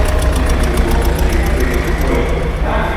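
A diesel car engine idles close by, loud and steady, with a rapid rhythmic knocking clatter running throughout.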